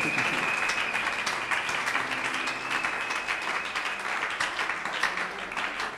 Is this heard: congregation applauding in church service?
yes